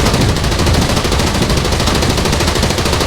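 Rapid automatic gunfire in the War Thunder combat game, a loud, dense burst of rattling shots that continues unbroken for the whole stretch and sits close and dominant.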